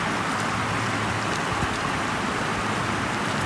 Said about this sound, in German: Geilster Wassereinlauf.